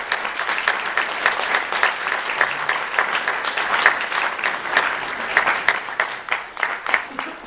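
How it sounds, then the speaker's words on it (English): An audience at the World Horror Convention 2012 opening ceremonies applauds its guests with sustained, rhythmic clapping that swells in bursts, and voices are heard amid it. "stand up so we can give them a big round of applause"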